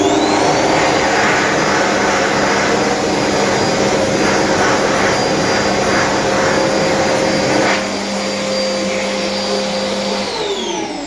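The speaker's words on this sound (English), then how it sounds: "once again has a black World Dryer Air Force" A black World Dryer Air Force hand dryer in a shopping-centre restroom blows with a loud, steady roar and a sustained whine, dropping slightly near the end, with no voices.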